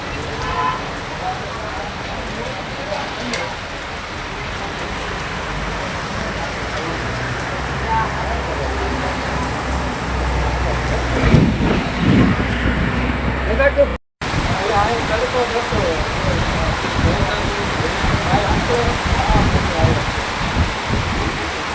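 A steady, dense roar of heavy rain driven by gusting wind in Paliyad village, Botad district, Gujarat, loud and continuous throughout, with a momentary cut partway.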